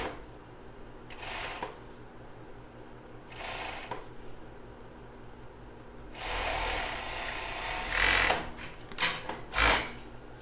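A sewing machine stitches a child's bra in a sewing class, right side to right side, running in several short bursts of varying length with quiet handling pauses between, fairly close and without talk.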